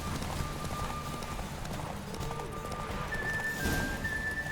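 Steady hoofbeats of a galloping horse in The Witcher 3: Wild Hunt, close and continuous, with a thin electronic tone and faint background game sounds.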